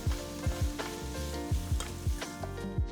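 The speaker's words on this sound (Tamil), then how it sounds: "எல்லாத்தையும் நல்லா வதக்குங்க." Finely chopped vegetables sizzling in a pan, with a spatula scraping and stirring in a quick, repeated rhythm over the constant frying hiss.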